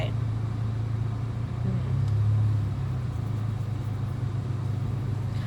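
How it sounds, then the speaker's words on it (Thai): A car's engine hums low and steady during a driving lesson, swelling slightly as it accelerates after a turn, with a faint voice murmuring in the background. "พอเราเลี้ยวแล้วก็แตะคันเร่งได้ค่ะ"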